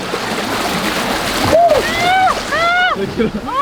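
A person rides a straight-drop water slide at the Carolina Pines Resort, a loud rushing splash of water while excited voices whoop and shout with rising and falling cries over the spray.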